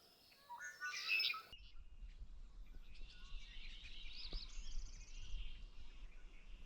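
Birds call across the Hosmer Lake marsh: a brief, louder burst of chirps early on, then scattered thin, faint tweets and whistles over a low, quiet rumble, with no one talking.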